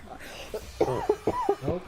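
A person coughs in a quick series of several sharp, close bursts, with throat-clearing and voice-like sounds mixed in.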